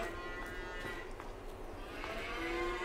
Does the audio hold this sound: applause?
no